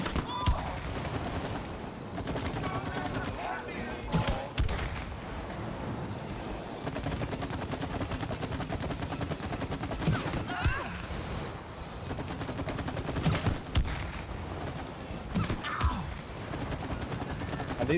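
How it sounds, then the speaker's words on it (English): Repeated gunfire shooting at a chain in the co-op game It Takes Two, dense bursts of shots running continuously over busy game music and effects, with voices talking at times. "Shoot the chain, fool."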